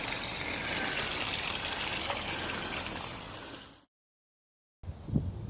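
A clear stream bubbling and trickling along a countryside walking route, a steady broadband wash that runs for nearly four seconds, cuts out, then returns briefly with a small splash.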